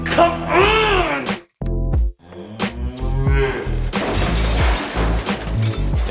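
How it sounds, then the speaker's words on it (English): Cows moo loudly and repeatedly at close range while trying to open a window, the long drawn-out calls broken by a few sharp knocks and bumps. "this is how cows manage to open the window to freedom"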